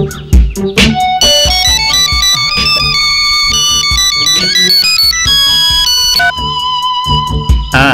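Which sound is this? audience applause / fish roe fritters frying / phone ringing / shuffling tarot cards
phone ringing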